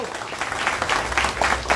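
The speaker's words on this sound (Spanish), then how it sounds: "Un aplauso para todos ustedes." Applause from a crowd at a PRD youth political rally in Acapulco, a short burst of bright, uneven clapping with a few louder peaks, fairly close and steady throughout.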